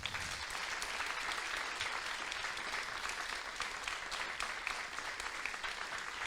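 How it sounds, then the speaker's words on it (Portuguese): A church congregation gathered to celebrate a couple's 40 years of pastoral ministry breaks into sustained, dense applause that holds steady and loud for the whole stretch, with no voices rising above it. "Eu peço uma salva de palmas."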